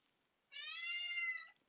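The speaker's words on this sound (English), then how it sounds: "You can keep meowing all you want." An indoor house cat lets out one long, clear, drawn-out meow while wanting to be let outside, close and alone in a quiet room.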